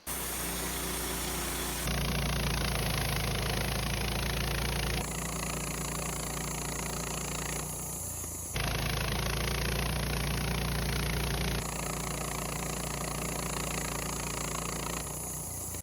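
A Woodmizer LT15 sawmill runs steadily as a 7-degree double hard blade cuts through a Madrone log, a loud continuous engine drone whose tone shifts in blocks as the load changes, with no voices.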